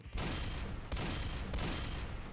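A boss fires at players in the Roblox game Dead Rails. Loud bursts of gunfire land in three quick volleys over a constant rumbling din.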